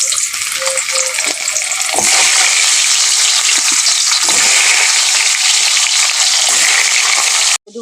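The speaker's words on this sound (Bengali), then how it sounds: "কেটে রেখেছিলাম ছোটো ছোটো টুকরো করে আলুগুলোকে আমি ভেজে নেব।" Small potato pieces sizzle steadily in hot mustard oil, a loud, continuous broadband frying hiss with occasional stirring scrapes, cutting off abruptly at the end.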